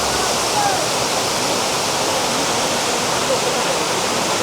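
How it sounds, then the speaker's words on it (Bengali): A roaring waterfall near Gangtok heard from right in front, a loud, steady rush of broadband noise that fills the whole moment with no breaks. "একদম ওয়াটারফলসের সামনেই চলে আসলাম"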